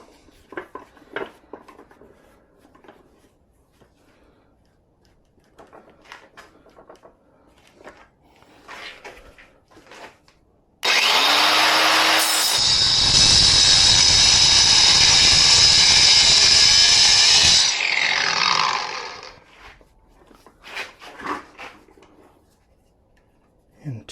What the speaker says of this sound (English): I might be able to grind it in half and break it apart that way.